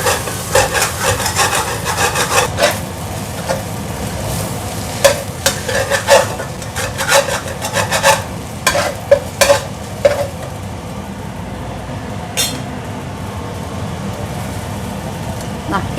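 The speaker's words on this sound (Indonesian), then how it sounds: "Kita tumis lagi ya." Tofu skin stir-fried with garlic, chili and soy sauce in a pan, giving a steady sizzle with repeated scraping and stirring strokes of a utensil throughout, close and fairly loud, with a voice speaking intermittently over it.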